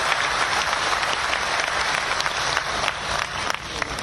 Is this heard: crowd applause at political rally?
yes